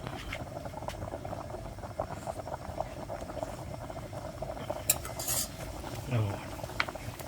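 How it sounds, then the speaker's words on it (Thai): A pot of Northern Thai sea snail curry with dok nang laew flowers bubbles at a steady rolling boil, with occasional clinks of a utensil against the metal. "หม้อแกงของเราครับเดือดบรุ่นบรุ่นนะครับ"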